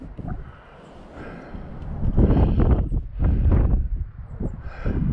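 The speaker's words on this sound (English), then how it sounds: "It's windy today." Gusty wind buffets the microphone outdoors, rising into strong low rumbling blasts midway and easing slightly toward the end.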